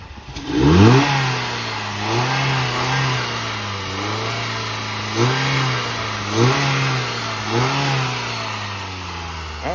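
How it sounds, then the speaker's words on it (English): A Dodge car engine fitted with a short ram cold air intake starts with a quick sweep upward, then revs repeatedly in short rising bursts over a steady idle, loud and close. "Give it a rev."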